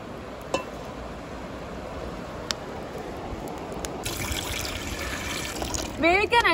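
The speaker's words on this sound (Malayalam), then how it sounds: "വേവിക്കാനായിട്ട് കുറച്ച് വെള്ളം ഒഴിക്കാം" Water poured into a cooking pot to boil chopped carrots and potatoes for an Olivier salad; a quiet room hum gives way to a steady pouring rush from about the midpoint, ending with a few light clinks.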